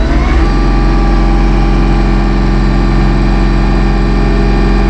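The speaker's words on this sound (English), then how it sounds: "We'll just take the throttle on up." A Massey Ferguson 1M.40 eHydro compact tractor engine runs at full throttle close by, a loud, steady, even drone with a strong low hum that stays constant throughout, heard without any talk.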